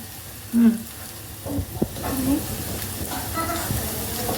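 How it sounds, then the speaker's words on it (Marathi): Mustard seeds and cumin crackling and sizzling in hot oil for a Marathi moong sambara tempering, light popping and hiss close by in a pan, with a voice talking over it. "आता एक टीस्पून राई टाकतोय एक टीस्पून जिरा"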